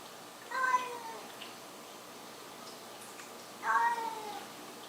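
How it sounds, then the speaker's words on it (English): A black feral cat meows twice outdoors, one call near the start and a second a few seconds later, each a clear mid-pitched cry over quiet background hiss. "Hey, Random! What's he doing out there, Black Cat? That's Random Kitty."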